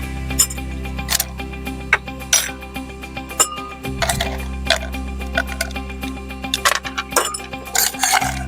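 Ice cubes clinking and knocking into a glass of blue flower juice at an urban farm, a steady run of sharp close clinks over a low background hum.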